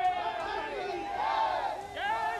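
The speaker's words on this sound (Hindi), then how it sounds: "ये लोग नारे लगा रहे हैं मीडिया के खिलाफ" A crowd at a public gathering in Mathura chants slogans against the media, a rising and falling mass of raised voices shouting together, moderately distant and continuous.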